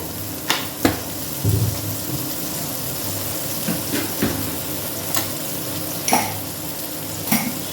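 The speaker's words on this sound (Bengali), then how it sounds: "এবার সজনে ফুলগুলো তেলে দিয়ে দিলাম" Drumstick flowers dropped into hot white mustard oil beside frying eggplant, giving a steady close sizzle broken by a few sharp scraping stirs of a spatula against the pan.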